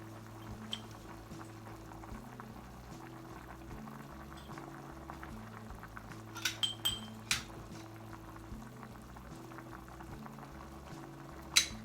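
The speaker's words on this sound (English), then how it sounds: "All of the ingredients that I've put in so far have come to a boil." Potatoes, bacon and other cream-of-potato soup ingredients boil in a pot, a low steady bubbling close by and fairly quiet, with a few light clinks of utensils against the pot.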